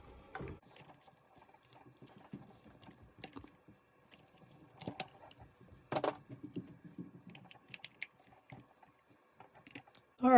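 Small metal trigger parts from a Geissele trigger being swapped in an MP5 lower, faint scattered clicks, taps and rattles of handling with a few sharper snaps, close, quiet and irregular.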